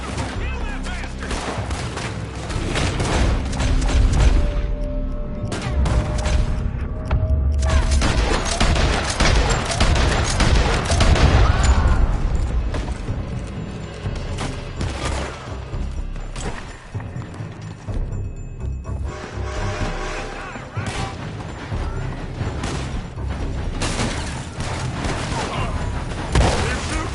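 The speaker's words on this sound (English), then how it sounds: "They're shooting from that building." Dense gunfire from a Red Dead Redemption 2 shootout, a loud continuous fusillade of overlapping shots and booms with game music and shouting voices underneath.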